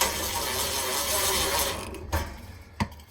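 Removing a screw from a Whirlpool electric dryer during a heating element replacement gives a steady whirring, grinding drive noise that stops, followed by a few sharp clicks and knocks up close.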